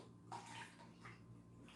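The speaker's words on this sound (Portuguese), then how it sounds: "Terceiro, vou colocar água." Water is poured into a container while a mixture of salt and rice is prepared for a school science lesson, a faint, brief splashing with soft gurgles and no talk.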